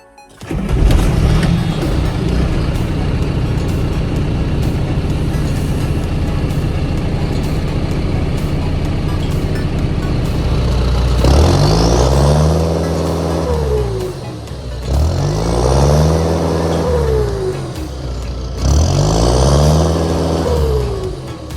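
A John Deere 6320 Premium tractor's diesel engine runs at a steady idle, then is revved three times in quick succession, each rev rising and falling in pitch. The engine is loud and close, and no one speaks.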